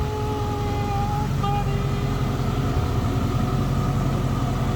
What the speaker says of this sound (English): as you can hear, we did in fact have a header leak on the passenger side